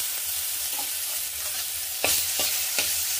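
Ginger garlic paste fries in an iron wok with a steady close sizzle, broken by a few scraping stirs toward the end.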